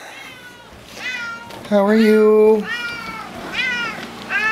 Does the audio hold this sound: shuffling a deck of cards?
no